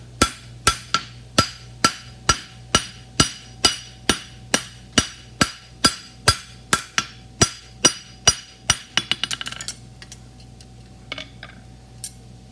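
Metal being hammered flat while a roadster is built: a steady run of about twenty sharp, ringing hammer blows at an even pace, then a quick flurry of lighter taps trailing into near silence, close and with no talking.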